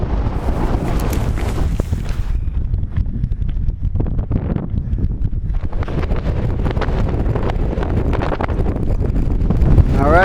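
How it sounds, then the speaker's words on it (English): Strong wind gusting across an exposed mountain cliff top on a backpacking hike, loud buffeting roar and rumble battering the microphone continuously, easing briefly in the middle before surging again. "There's the wind."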